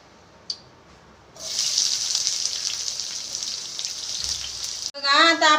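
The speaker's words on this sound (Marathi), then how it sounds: "आपला कांदा आहे ना छान तेलामध्ये आता परतायला लागलाय" Finely chopped onions dropped into three to four spoons of hot oil in a pan for anda pav bhurji, a sudden steady sizzle that continues for several seconds before a voice cuts in.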